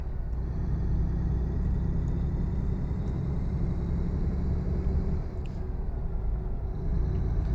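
In a video game, a vehicle engine drones as the driver accelerates, a steady, loud, low rumble that holds throughout with only a slight dip near the end, with no talking.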